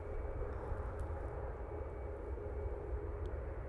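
A Ryanair Boeing 737-800 touching down, a steady broadband roar of jet engines and rushing air holding level throughout with no voices.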